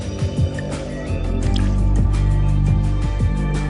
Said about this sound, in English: When the magician fills the glass with water